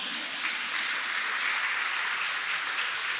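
Church congregation applauding together, a steady dense wash of clapping that holds evenly throughout at a fairly close, full level with no voices on top.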